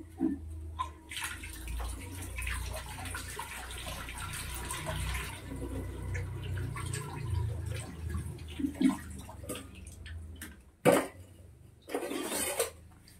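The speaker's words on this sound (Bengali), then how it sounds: "মুড়োটা ধুয়ে নি ভালো করে" A fish head washed under running tap water, a gurgling, splashing flow with scattered clatters and a couple of sharp knocks, close and fairly quiet, with no one talking.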